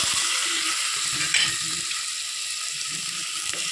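Tomatoes being stirred into leftover rice frying in a pan, a steady loud sizzle with soft scraping stir noises throughout, no voices.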